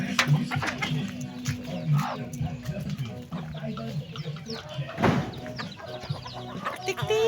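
Large chickens cluck near at hand in short repeated calls over a farmyard background, with someone talking under and between the clucks.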